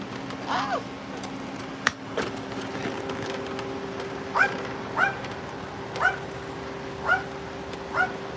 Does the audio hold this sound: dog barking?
yes